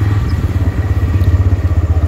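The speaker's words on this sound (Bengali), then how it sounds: "চলো তাহলে আমি বাইক বার করি না" A motorcycle being wheeled out at a seaside stay in Digha runs close and loud with a steady, low, throbbing idle rumble and some clatter.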